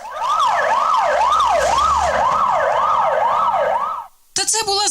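Fire engines pull away with a loud wailing siren that rises and falls in a regular cycle, close by, followed by a brief burst of another siren tone.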